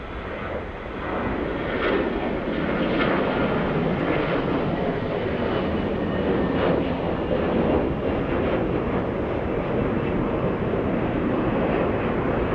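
Airliner jet engines roar at Atlanta's Hartsfield-Jackson airport, a steady, loud, broadband rumble and whoosh that holds for several seconds with no voices.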